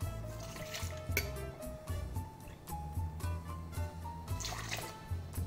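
Soy milk pours into a glass for a Halloween cocktail, a soft liquid trickle that runs steadily for several seconds, close up, with no voices.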